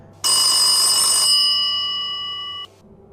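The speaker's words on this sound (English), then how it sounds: "the orange phone rang" An old-style telephone bell rings loudly in one sustained burst of about two and a half seconds, a rattling metallic clang that gives way to a steady ringing tone before cutting off, with no voices.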